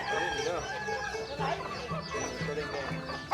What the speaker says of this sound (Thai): โอ้ไก่เราหลายขนาดนั้นมันเป็น100ตัวผมว่านี่